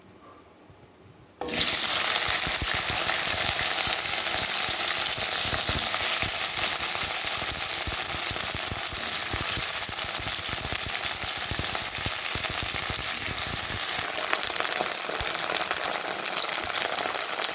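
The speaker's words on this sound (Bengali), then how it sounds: "আমি কড়াইতে তেল দিয়ে দিয়েছি এবারে প্রথমে ভেন্ডিগুলোকে ভেজে নেবো" Loud, steady sizzling of okra hitting hot oil in a wok, bursting in abruptly after a quiet moment and crackling continuously without any talking.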